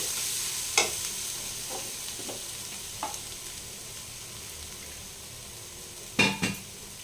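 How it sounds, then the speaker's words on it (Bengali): Spice paste with a splash of water fries in a kadai for a Bengali ridge gourd and prawn curry, hissing steadily while a spoon clinks against the pan a few times. "এরপর আমি এটা ভালোভাবে ভেজে নেব। একটু জল দেবো মশলাটা কষার জন্য।"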